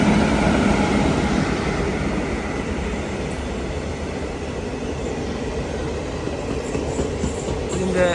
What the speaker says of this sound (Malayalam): ഇവിടെ വന്നു നിന്നാൽ ഇങ്ങനത്തെ ട്രെയിനൊക്കെ നല്ല രീതിയിൽ സ്പോട്ട് ചെയ്യാം